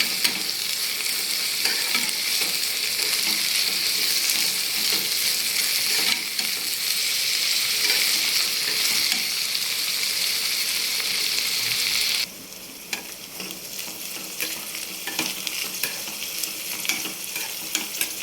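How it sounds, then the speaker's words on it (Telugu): Prawns fry in hot oil for a prawn tomato curry, a loud continuous hiss of sizzling close by that drops suddenly to a softer, steadier sizzle partway through, with no talking. "రొయ్యలు అయితే బాగా ఫ్రై అవ్వాలండి ఆయిల్లో"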